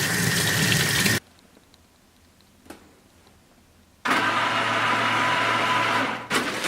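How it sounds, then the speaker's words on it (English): Hands are washed with soap under a running tap in a ceramics glaze lab. Two loud, steady bursts of rushing water are separated by a quiet pause that holds a single faint knock. "when you're done, wash your hands with soap"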